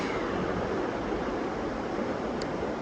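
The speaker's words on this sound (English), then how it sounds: "this is quite the raging creek" Continuous broadband rush of a fast-flowing creek in the Smoky Mountains, steady and full with no breaks or voices.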